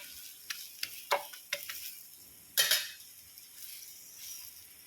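Chapati cooking on a hot pan gives a soft, steady sizzle, broken by several sharp taps and scrapes of a utensil against the pan.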